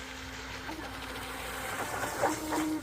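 Radio-controlled jet boat, a Proboat Jet Stream MOJO 2, running on water: a steady motor whine with a few rising pitch surges as the throttle is pushed, fairly close and heard alone.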